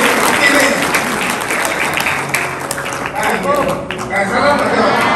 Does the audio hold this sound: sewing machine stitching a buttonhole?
no